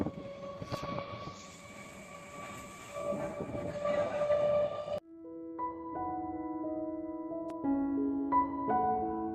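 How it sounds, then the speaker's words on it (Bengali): Steady rumbling hum of a moving train carriage heading to Burdwan, with tonal whines and a sharp change partway through as the engine note shifts, loud and close. "ট্রেনের মধ্যে আছি"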